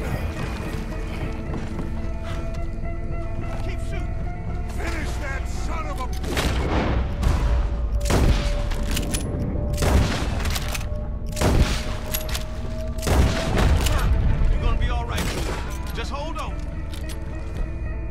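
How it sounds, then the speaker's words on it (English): Gunfire in the video game Red Dead Redemption 2: a rapid series of loud shots fires in bursts over pounding horse hooves, with characters shouting throughout. "Keep shooting!"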